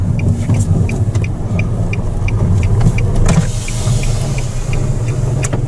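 A car engine rumbles steadily from inside the vehicle while driving to a quinceañera celebration, with a loud low drone and a regular faint ticking over it.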